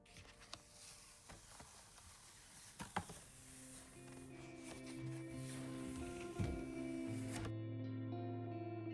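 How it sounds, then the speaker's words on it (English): A Cricut cutting machine runs, starting with scattered clicks and taps, then settling into a steady motorised whir with tonal hum, faint and close, alone with no talk. "I really loved using my Cricut for little quick things like this"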